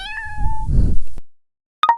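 A cat gives a clear, drawn-out meow that breaks into a rougher, noisier cry before fading, followed by silence and a short faint chirp.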